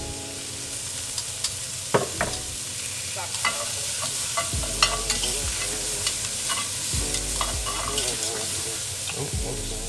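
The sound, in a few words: oil sizzling in a pan while stirring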